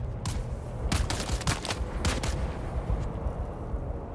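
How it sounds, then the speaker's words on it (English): A rapid flurry of gunshots in the video game Dune: Awakening crackles in quick bursts, loud and dense with booming low rumble, no voices present. "I am hearing gunshots."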